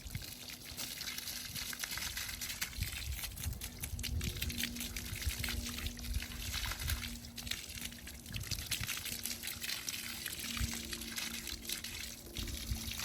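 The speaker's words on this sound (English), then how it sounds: "we're going to rinse all this extra soap out" Water pours steadily from a hose as soap is rinsed from a white pony's coat on a ranch, a soft continuous splashing and trickling heard close and quiet without voices.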